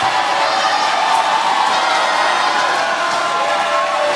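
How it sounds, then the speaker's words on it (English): Home crowd at a Malaysia Dragons versus Indonesia Warriors basketball game, a dense, sustained roar of cheering and shouting filling the arena without letting up. "we're really starting to hear it from the home crowd getting behind the Dragons"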